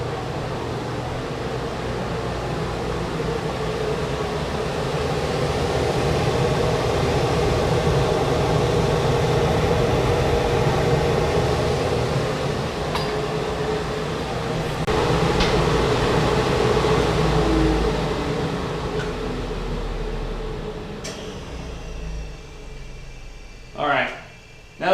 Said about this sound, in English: Take you over to the dust collector so you can see what's going on in there.